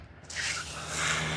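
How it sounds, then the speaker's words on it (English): A running water feature built into a bedroom door in a luxury home near Tulsa gives a steady, hissing trickle that swells after a brief quiet start and continues evenly at moderate level. "if you like the sound of running water, check out this door"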